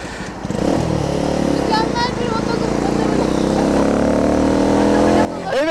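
Motorcycle accelerating hard through city traffic alongside a bus, a loud, sustained engine roar that climbs in pitch and holds steady for several seconds before cutting off near the end, with wind rush and road noise throughout.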